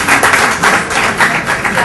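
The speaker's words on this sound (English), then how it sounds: "I don't know if that's applause for Sanjana's appearance or if it's an applause that the technology worked." An audience at a 2009 online dispute resolution conference breaks into applause, a dense, steady wash of many hands clapping close by.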